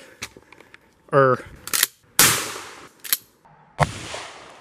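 Gunshots fired at bottle targets outdoors, several sharp cracks spaced irregularly over a few seconds, mixed with a brief voice-like sound and handling noises.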